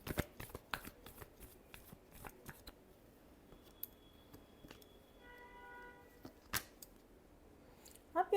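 Tarot cards shuffled by hand in a quiet room, a rapid series of crisp riffling snaps and flicks that comes in bursts and pauses, with a soft chime-like tone partway through.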